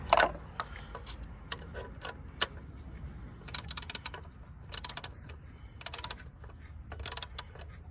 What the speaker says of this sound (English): Next, I'm going to take the 10mm bolt off up here.